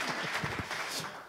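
A short burst of warm audience applause at a public discussion on diversity in the police. Brisk, moderately loud clapping fills the whole moment without pause.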